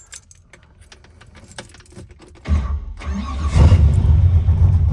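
Keys jangle close by, then a restored 1966 Corvette coupe with a 355 cubic-inch V8 and side pipes cranks and fires, settling into a loud, deep, rumbling cold idle.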